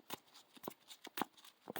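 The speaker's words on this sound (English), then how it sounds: "shuffle the deck." A Yu-Gi-Oh card deck gets shuffled by hand, a quick series of crisp riffling bursts close to the microphone, alone with no talking.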